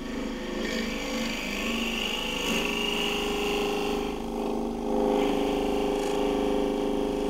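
A wood lathe cuts a cross-grain tripod pencil pot with the tool chattering slightly, giving a steady, close, buzzing whine that runs throughout and grows a little louder near the end.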